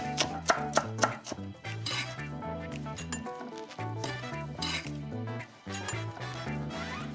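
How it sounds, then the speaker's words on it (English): A knife finely slicing shallots on a cutting board for a black-eyed bean salad, with quick repeated taps and cuts heard under steady background music. "slice them a lot more finely. So if you take a thick piece, just slice that in half, and then a really fine slice"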